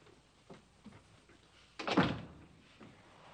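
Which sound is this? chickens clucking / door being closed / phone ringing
door being closed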